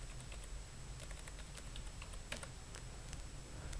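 Quiet typing on a computer keyboard, a steady irregular patter of soft key clicks over low background hum, with no talking.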